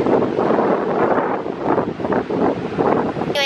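Strong wind buffets the microphone in a steady, roaring rush with gusty swells, loud and continuous throughout.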